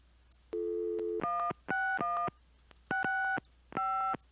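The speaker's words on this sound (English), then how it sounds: "Five, 8, 5, 1, 1, 0, I'm doing the 3. The The phone, you idiot!" Touch-tone phone dialing in the point-and-click adventure game Gabriel Knight: Sins of the Fathers: six separate DTMF beeps in an uneven rhythm, clear and isolated against near silence.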